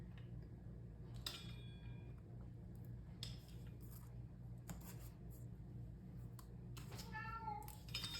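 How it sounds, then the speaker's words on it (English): A pet cat meows a few times from nearby, asking to be let into a kitchen during cooking, with short cries over a steady low hum and faint household noises. "My cat wants in here, but she's not allowed in the kitchen while I'm cooking."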